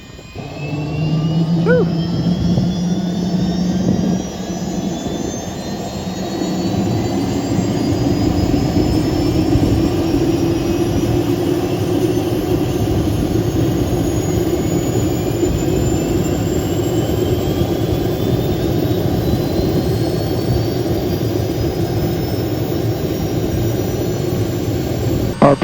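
An old helicopter that has been abandoned for ten years starts up and keeps running. It gives a loud, steady engine and turbine roar with a rising whine, plus a low rumble that holds at full strength throughout. A voice exhales briefly near the start.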